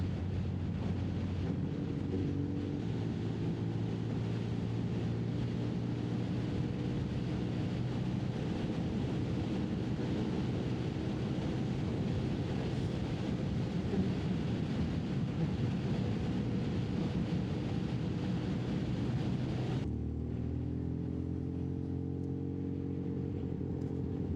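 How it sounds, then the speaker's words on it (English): A 27-year-old Yamaha XJ600N motorcycle rides along with its exhaust droning steadily under heavy wind rush, then the engine note drops and settles as the bike slows. "This exhaust sounds extraordinary."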